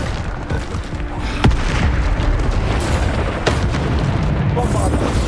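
Bombarda spell explosions in the Hogwarts Legacy video game make repeated heavy booms and sharp bursts over a continuous loud rumble of game sound. A voice speaks over them.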